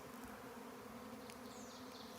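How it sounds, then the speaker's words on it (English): Bees swarm overhead in a hillside cemetery in Crawford County, Indiana, producing a steady, dense buzzing drone that runs unbroken throughout, fairly close and constant. "I don't know what type of bees they are either."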